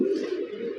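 A large caged pigeon, kept for sale with a leg ring, gives a low, throaty coo, close and clear, holding steady for under a second.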